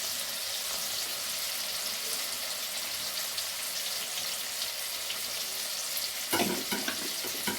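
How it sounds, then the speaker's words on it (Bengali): Onion and spices frying in a pan, a soft continuous close sizzle with a brief louder scrape or stir near the end, no voices. "পেঁয়াজটা ভাজা ভাজা হয়ে গেছে, এবার আমি মশলাটা"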